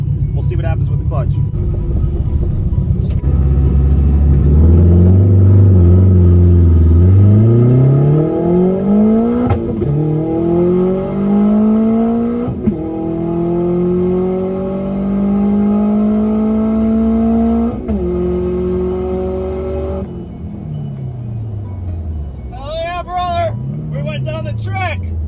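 Turbocharged K-swap Acura CL launching down a drag strip, engine rising through several gears in loud climbing sweeps with brief dips at each shift, then backing off; people talk and shout over it near the end.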